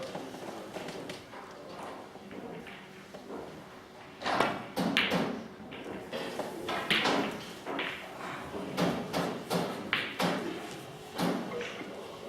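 Billiard cue and balls during a safety shot in the 2017 UK Billiard Championship final: several sharp, close clicks and taps in an irregular rhythm over a quiet hall ambience.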